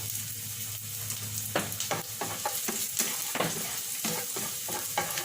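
Garlic sizzles steadily in a hot pan while being browned for beef kaldereta, with repeated scraping and stirring clatters breaking through the continuous frying hiss.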